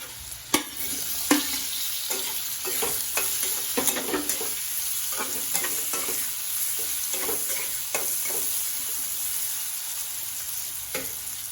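Boiled potatoes fry and sizzle in a pan while a utensil stirs and scrapes them, with a steady hiss and irregular knocks and clatters close by. Nobody speaks.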